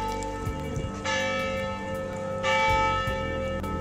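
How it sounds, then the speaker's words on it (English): Mission church bells ringing nearby, loud sustained tolling with rich ringing overtones, fresh strikes roughly every one to one and a half seconds layered over the lingering hum, with no talk. "The bells are ringing!"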